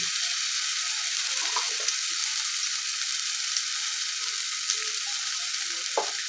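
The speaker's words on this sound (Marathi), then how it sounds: "तेल आपलं तापलेलं आहे तर त्याच्यामध्ये मी आलं लसणाची पेस्ट ॲड करतोय" Ginger-garlic paste fries in hot oil, giving a steady, even hiss of sizzling with a few faint clicks and spatters, close up and continuous, with no voices.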